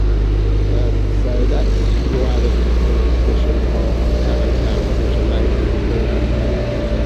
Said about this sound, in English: there's a load of taxis going past at the moment